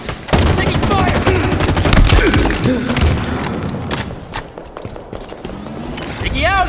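Rapid gunfire and bursts of automatic weapons in Halo Infinite multiplayer, loud and continuous with thuds and impacts, a voice shouting briefly over the firefight.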